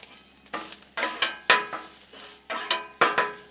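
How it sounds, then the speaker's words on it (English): Italian sausage browning on a Blackstone griddle sizzles while a spatula scrapes and stirs in repeated strokes, about six sharp metallic scrapes over a soft steady crackle, close and clear. "all we're gonna do is brown up this Italian sausage, get it cooking"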